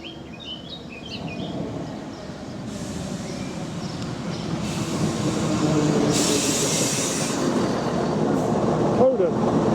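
A four-coach train on the Uckfield branch line rolls along with steady rumbling wheel noise that grows louder, broken by brief squeals and a short high chirp near the end.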